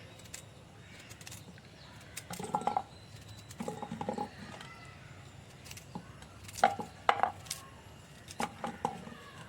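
Irregular knife thuds of peeled elephant foot yam being chopped into small pieces on a board, quiet and close, in short bursts with pauses, over faint background noise.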